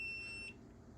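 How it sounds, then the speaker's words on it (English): A single short, high electronic beep from the batteries of an Anker Solix F3800 power station sounds for about half a second, then cuts off, leaving quiet room noise. "I'm pretty sure that's for the batteries, that beep."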